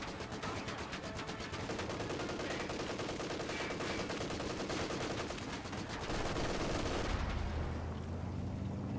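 An MG42 machine gun in Company of Heroes 2 rattles out long, rapid bursts amid dense battlefield gunfire, the rhythmic chatter continuing for several seconds before giving way to a deeper rumble near the end.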